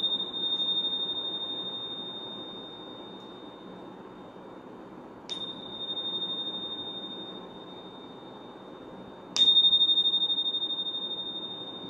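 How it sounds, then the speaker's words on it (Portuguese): A small meditation bell rings three times at long, even intervals, each strike a clear bright tone that hangs and slowly fades over a quiet background. "Eu vou tocar 3 vezes o sininho."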